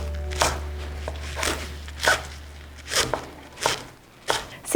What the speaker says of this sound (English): So I'm going to cut the kale in very thin strips.